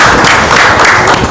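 A studio audience breaks into applause, a short loud burst of dense clapping that fills the moment with no talk over it.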